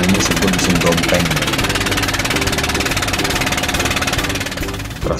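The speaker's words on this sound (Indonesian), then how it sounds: "kalau bot ini suaranya berisik ini, asik lah, karena dia menggunakan, kalau istilahnya orang sana ini sebut mesin dompeng" A loud dompeng engine drives a river boat on the Pematang Buluh river, a harsh, rapid, pulsing rattle that runs steadily and up close, dipping slightly near the end.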